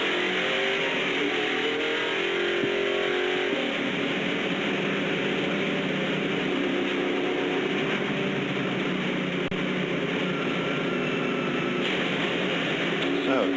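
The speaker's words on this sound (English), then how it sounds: "That goes the 7 car of Michael Waltrip right behind him, another Chevrolet." NASCAR stock cars, including Chevrolets, roar continuously around the track in a steady, loud engine drone, with a commentator talking over it.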